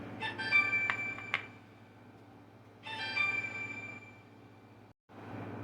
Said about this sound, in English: That was my other phone.